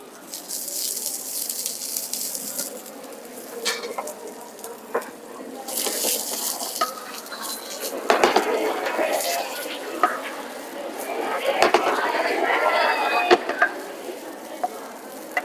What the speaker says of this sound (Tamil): ஸோ நல்லா இந்த மாதிரி வதக்கிக்கங்க